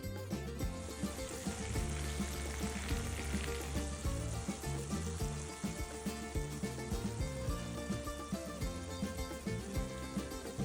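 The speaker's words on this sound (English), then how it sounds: "I love the sizzle." Cooled syrup poured over hot, crisp galaktoboureko fresh from the oven gives a steady, continuous sizzle and crackle, close and fairly quiet, lasting without a break.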